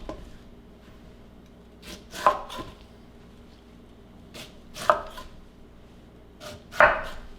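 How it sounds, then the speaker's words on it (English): Knife cutting around the core of a pineapple, three separate rasping slicing strokes spaced a couple of seconds apart, close and fairly quiet with no talk. "We're just gonna cut right around that."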